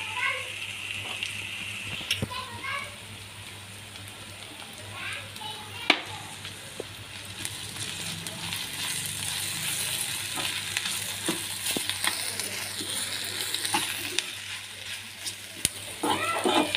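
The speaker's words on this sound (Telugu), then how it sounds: "ఇప్పుడు తరిగి పెట్టుకున్న కొబ్బరి తురుము వేయండి" Grated fresh coconut hits a pan of cooking onion curry and fries with a steady, close sizzle and crackle, broken by occasional clinks and stirring scrapes, with faint background noise throughout.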